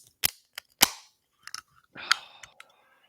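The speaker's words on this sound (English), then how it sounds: "That's the sound of a Cincy light cracking open." A can of Cincy Light beer cracks open: several sharp clicks and pops, then a loud snap of the tab and a short fizzing hiss, close up and otherwise quiet.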